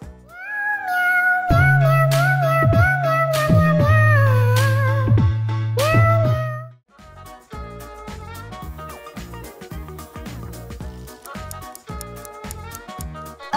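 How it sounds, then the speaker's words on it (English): Bongo Cat meme song, a bright melodic tune with a strong bass line, playing loudly and continuously before shifting into a busier rhythmic section of plucked and percussive notes. "It's Bongo Cat!"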